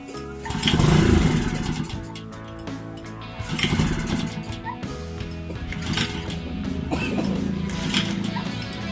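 A Honda WS20X engine-driven machine being cranked and failing to start: repeated bursts of engine turnover that sputter and die away, with mechanical clatter between attempts.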